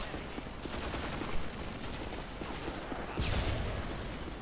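Rapid automatic gunfire rattles in dense bursts during a Modern Warfare 2 multiplayer match, with a heavier blast and rumble near the end.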